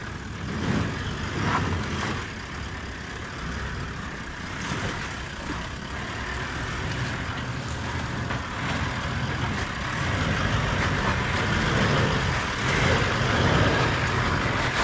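A 4WD vehicle in low range climbs a steep hill on 33-inch tyres, its engine droning steadily at low revs with a gradually rising, rumbling strain, close and continuous with no talking.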